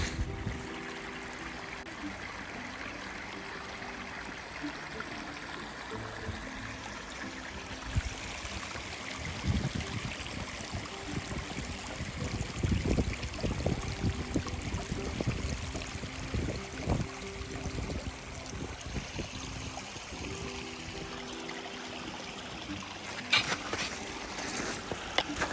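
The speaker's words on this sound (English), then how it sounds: "it's a little bit more of a creek now than it normally is with all the runoff" A mountain creek running high with snowmelt runoff gives a continuous rushing, burbling wash of moderate loudness, with some louder low-end surges midway through.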